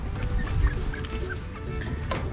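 Young hens that recently hatched cluck and chatter softly inside a small cage in a backyard, a steady low murmur of fowl sounds with a few brief higher calls and no talking.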